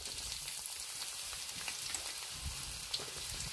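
Onions fry in oil in a kadhai, making a soft, continuous sizzle with small crackles, quiet and steady with no talking.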